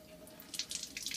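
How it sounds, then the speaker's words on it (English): Water from a house tap runs into a sink in short bursts of hissing splashes, growing slightly louder toward the end, close by and with no voices. "don't turn the water on too much"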